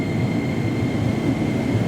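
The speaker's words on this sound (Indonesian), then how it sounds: "Itu dia kereta api Jayabaya sudah mendekat ke peron 4 di stasiun" The Jayabaya train rolls into platform 4 at Jatinegara station with a loud, continuous rumble of wheels and engine that fills the scene steadily and without a break.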